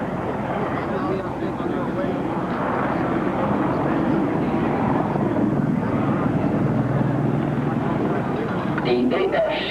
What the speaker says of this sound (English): The AH-64 Apache flew for the first time the 30th of September 1975.